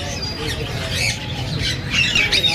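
Caged birds, including Java sparrows, squawk and chatter continuously at a Sunday bird market in Bahawalpur, a dense, busy layer of shrill calls close by with faint background voices.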